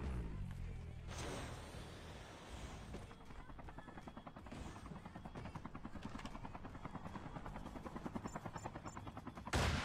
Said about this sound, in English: May chopper, pre.